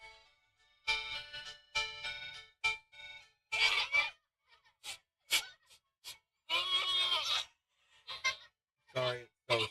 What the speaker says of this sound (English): This goat is terrifying.